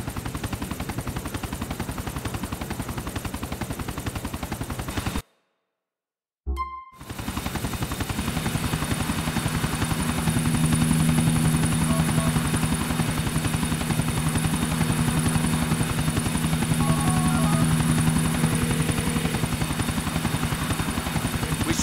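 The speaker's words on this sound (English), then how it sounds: "We shut down that chopper for you." Helicopter in a Grand Theft Auto IV game mission, a steady loud rotor drone running throughout with a brief silent dropout, alone with no talk.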